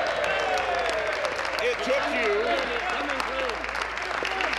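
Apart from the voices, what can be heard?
applause in the legislature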